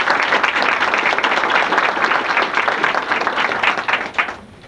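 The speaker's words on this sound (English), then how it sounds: "I'd like to give them a round of applause." An audience at a library dedication applauds with dense, loud clapping that holds steady before tapering off near the end.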